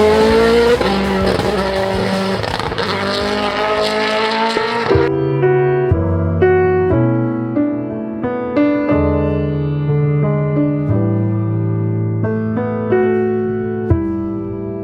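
WRC rally cars tear past on a rally stage, their engines roaring loud and close in a dense burst that gives way to sharp stepped shifts in pitch as they speed away, with no talking.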